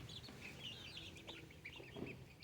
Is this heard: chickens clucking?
yes